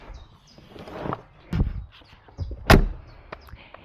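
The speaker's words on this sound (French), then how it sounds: "Et la fermeture de porte n'est pas non plus très luxueuse." A Mercedes G 450d SUV door produces a few dull thumps and handling noises before one loud, sharp slam, with faint outdoor chirps in the background.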